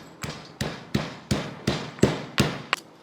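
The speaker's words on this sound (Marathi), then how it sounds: "सर्वप्रथम याचा जो मसाला आहे तो आपण कुटून घेऊ बारीक." Green chili, coriander, cumin and ginger are pounded into a masala paste with seven evenly spaced, sharp thuds, close and fairly loud with no talking.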